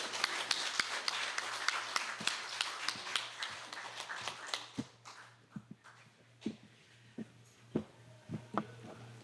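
An audience at a memorial service in a Los Angeles banquet hall applauds, dense clapping for about five seconds that thins into scattered, fading individual claps.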